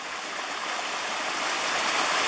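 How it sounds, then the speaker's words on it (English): A steady, full rush of high, tea-colored Adirondack stream water pouring over rocks, close and constant with no voices. "It's really high, but it's this tea-colored Adirondack water."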